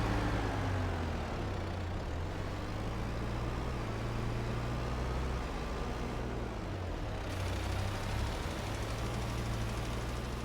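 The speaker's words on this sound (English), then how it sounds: "This tractor struggles just a little bit with this spreader full." A tractor engine labors under the weight of a full fertilizer spreader in Farming Simulator 22, a steady low drone with a humming tone that dips briefly, continuous and unaccompanied by speech.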